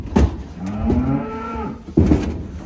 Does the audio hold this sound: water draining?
no